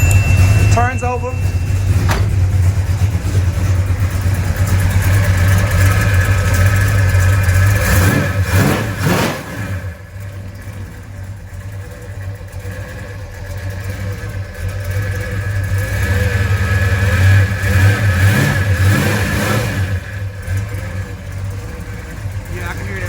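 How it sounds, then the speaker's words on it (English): A 1970 Chevelle SS engine running strong, a loud continuous rumble that rises and falls with throttle, with a steady thin whine from the power steering pump running over it throughout. "I can hear that power steering pump now. So yeah, it runs real strong."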